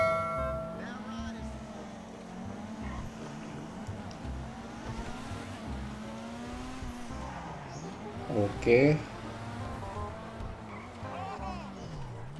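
A car engine in GTA V roars and revs steadily at high speed, with brief tire squeals, while a person talks over it throughout.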